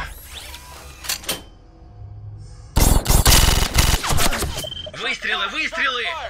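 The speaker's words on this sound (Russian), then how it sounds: "Выстрелы, выстрелы!" A burst of several loud, rapid gunshots at close range, followed by someone shouting urgently amid lingering noise.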